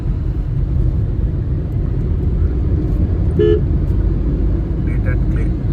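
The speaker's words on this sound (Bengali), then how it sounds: "অফিস টাইম হতে যাচ্ছে, ট্রাফিক আস্তে আস্তে করে বাড়ছে।" Dense road traffic on the way to Bhubaneswar, busy with motorbikes, gives a heavy steady engine rumble, broken by one short car horn toot and a few faint higher beeps, with voices murmuring underneath.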